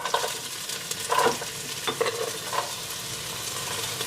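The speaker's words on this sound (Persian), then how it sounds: "سبزیجاتمون رو شروع کنیم به تفت دادن." Vegetables for Armenian makhokh abur soup sizzle and crackle in hot oil in a pot, with a few sharp stirring scrapes, close and moderately quiet.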